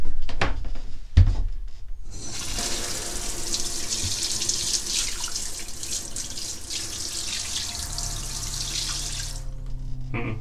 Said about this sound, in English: we need to test the showers as well, not just the basins